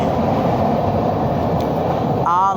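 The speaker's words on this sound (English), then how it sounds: "because that loud ass train" A loud train rolls past near a hotel, a heavy continuous rumble and roar filling the whole stretch, with a brief higher whine near the end and no clear speech.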